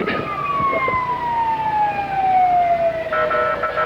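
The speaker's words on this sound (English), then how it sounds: "Kind of hard to talk over that siren, Diana." A loud siren wails steadily at a Christmas parade in Lake Wales, Florida, its pitch sliding slowly downward across the whole stretch, with faint rumbling traffic underneath.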